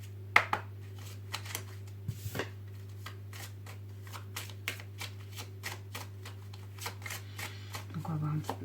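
Oracle cards shuffled by hand for a tarot-style reading, a dense run of crisp riffling snaps and flicks close by, repeating irregularly over a steady low hum.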